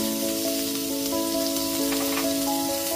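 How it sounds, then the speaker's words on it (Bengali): Chopped onion with ginger, garlic and green chilli fries gently in a pan over a low-to-medium gas flame, a steady close sizzle running throughout, with a faint tonal hum in the background. "পেঁয়াজ কুচিটা দিয়ে দেওয়ার পর গ্যাসের ফ্লেমটা লো টু মিডিয়ামে রেখে একটু হালকা করে ভেজে নিচ্ছি"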